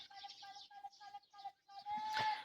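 Small birds chirp and twitter in quick repeated bursts, fairly close, with a brief louder rustling burst near the end.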